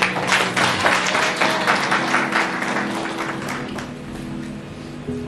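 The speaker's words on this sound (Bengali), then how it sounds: "ওদের জন্য জোরে করতালি দিই।" Church congregation applauding loudly and steadily, dense clapping that fills the space for several seconds before thinning slightly toward the end, with no speech over it.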